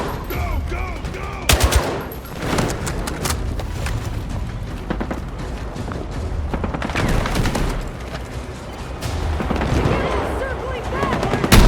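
Dense gunfire rattles through a night raid in Battlefield 6, automatic bursts and single shots overlapping with booms, while voices shout over the shooting.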